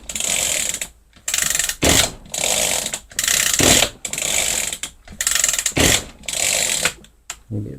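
Repeated pull-starting of an Echo small engine with the choke on: a series of loud, rhythmic rasping recoil-cord pulls, each a short burst with brief gaps between, close by and with no voices.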